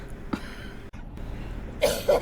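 A woman coughs in several short bursts, with a brief harsh cough early on and two louder, rougher coughs close together near the end, heard up close with no talking.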